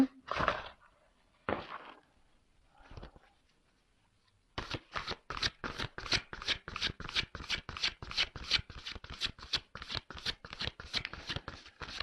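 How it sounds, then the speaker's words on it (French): Tarot cards being shuffled close up, a few separate riffles and rustles at first, then a quiet pause, then a long run of fast, even, crisp card snaps in a steady rhythm with no talk. "On va prendre d'autres cartes."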